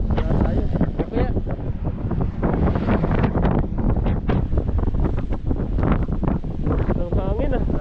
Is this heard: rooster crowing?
no